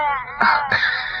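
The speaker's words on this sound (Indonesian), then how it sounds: "Paling pusing kalau dengar bayi menangis." A baby cries in a radio drama sound effect, with two sharp wailing bursts rising over a steady, high-pitched crying tone, close and loud.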